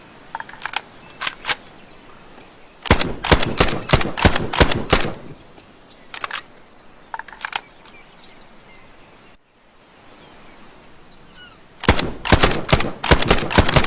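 A homemade carbine rifle fires in rapid bursts of sharp, loud cracks, with a few short volleys and scattered single shots between longer sustained strings.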